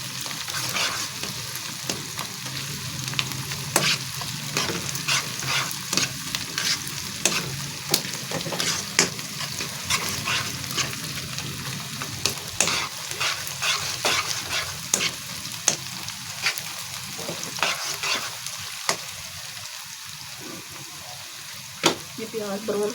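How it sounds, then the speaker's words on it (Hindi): Onions frying with whole garam masala for chicken karahi, stirred until brown: a steady sizzle broken by frequent sharp scrapes and clinks of the spoon against the pan, close up. "ये प्याज ब्राउन हो रहा है, इसको ब्राउन होने देते हैं।"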